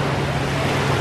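Small, calm ocean waves wash steadily as a continuous broadband surf hiss, with some wind rumble on the microphone and no talking.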